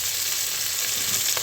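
Potato pieces lightly frying in hot oil in a pan, a steady close hiss of sizzling throughout with no voices.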